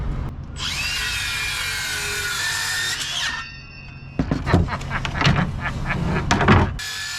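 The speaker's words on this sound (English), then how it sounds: "I'm just going to put a little chamfer on the top edge, nothing too exotic, and cut it down to the height that just barely fits" A power saw whines as it cuts a chamfer along the top edge of a board aboard a wooden boat, a steady high buzz for about three seconds, then a spell of rough scraping and knocking as the wood is handled.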